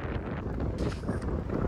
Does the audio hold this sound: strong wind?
yes